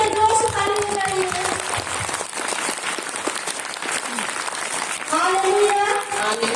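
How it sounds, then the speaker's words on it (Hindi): Church congregation clapping in a worship service, steady applause with harmonic tones of voices or music at the start and end, loud and close. "हालेलुया, ईश्वर के जोश ताली बजाइए"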